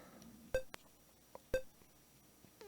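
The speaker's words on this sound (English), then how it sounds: "That's why the timer is so strict and why you hear it ticking down the entire time." Timer in the RoboCop 2 video game ticks down, two sharp electronic beeps about a second apart with faint clicks in between, quiet and close, with no talking.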